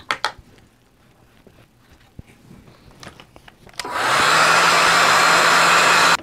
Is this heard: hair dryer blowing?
yes